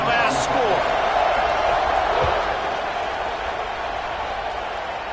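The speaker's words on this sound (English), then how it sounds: "this crowd is buzzing after that last score" A football game crowd buzzes in a continuous loud roar that fills the stadium, easing slightly halfway through, with a brief sharp knock near the start.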